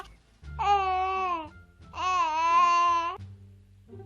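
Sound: baby crying in Roblox video game

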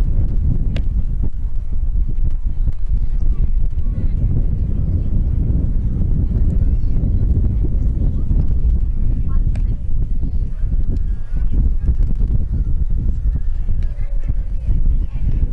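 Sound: wind blowing at outdoor softball game

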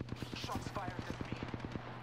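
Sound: gunfire in Apex Legends video game

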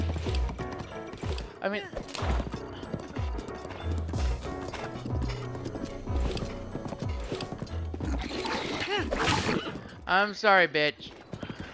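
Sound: horse hooves galloping in Zelda: Breath of the Wild video game

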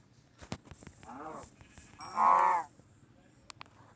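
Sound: sheep bleating in Minecraft video game

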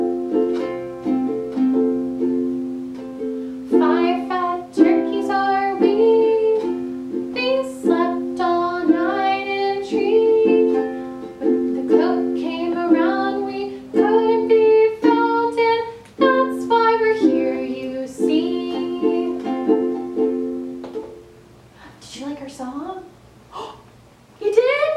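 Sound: children's song about five turkeys

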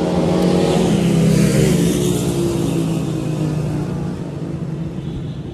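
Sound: car passing on the street

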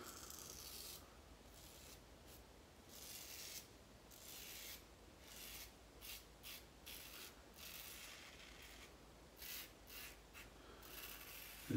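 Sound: safety razor shaving against the grain

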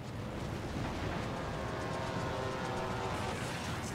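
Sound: armor-piercing rocket strikes in World of Warships video game

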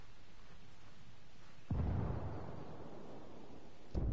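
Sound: grenade explosion in the video game Ghost Recon

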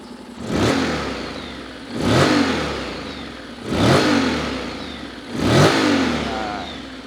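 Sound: Honda X-ADV 2018 big bike engine revving

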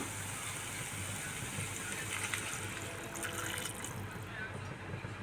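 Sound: hot water poured into squash and potato curry

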